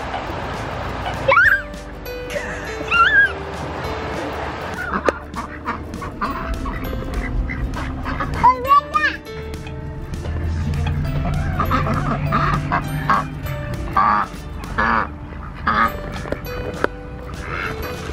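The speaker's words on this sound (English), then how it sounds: "One duck." Ducks quack and cluck in short bursts, near and fairly loud at a pond with slides nearby, over ongoing background noise with scattered gaps.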